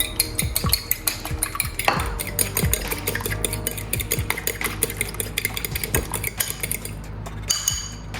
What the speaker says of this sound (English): So now I'm going to just crack an egg and whisk it up a bit.